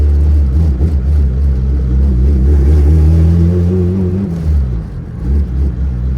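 A turbocharged, fully built Honda Civic engine runs rough and misfires, a loud, close, uneven low rumble. It stumbles and sputters for several seconds, then dips and surges toward the end.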